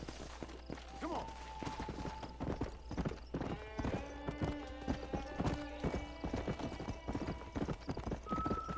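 A horse clip-clops along at a steady, rapid gait in the video game Red Dead Redemption, hoofbeats close and continuous with a brief whinny-like tone, while a person talks faintly over it.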